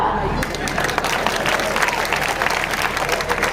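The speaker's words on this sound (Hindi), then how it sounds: "यहां बजाओ तालियां" Crowd applause and clapping at a political rally in India, a dense, loud, continuous roar of many hands mixed with crowd noise and shouting.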